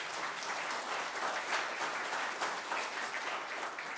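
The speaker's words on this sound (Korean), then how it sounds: "우원식 차기 의장님에게 우리 성원의 박수 한번 부탁드리겠습니다" At a ceremony marking the 40th anniversary of the Council for the Promotion of Democracy, the audience applauds the incoming National Assembly speaker, dense, continuous clapping of a sizable crowd heard at a moderate distance.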